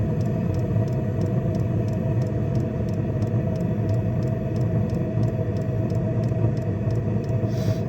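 An engine idles steadily through a newly fitted muffler, a loud, even rumble with a constant low hum and faint rhythmic ticking above it, no voices.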